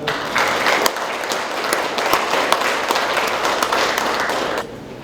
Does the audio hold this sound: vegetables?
no